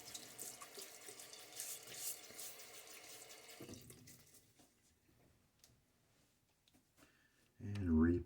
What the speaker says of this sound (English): A little water on my face again.